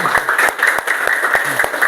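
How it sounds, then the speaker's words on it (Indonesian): Schoolchildren in a classroom clapping together after singing a song, a rhythmic, fairly close burst of many small hands with regular sharp beats, loud and steady. "Oke, luar biasa anak-anak, tepuk tangan."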